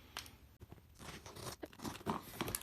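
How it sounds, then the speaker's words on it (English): A Neokyo cardboard shipping box is cut open, with quiet crunching, tearing and crinkling bursts in quick succession, close and faint. "I'm just gonna cut it open really quick"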